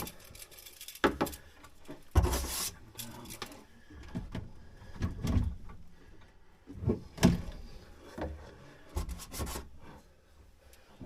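A drawer being opened and closed near a drinking water pump installation, with several sliding rubs and sharp knocks and clunks spread across the span, close and fairly loud.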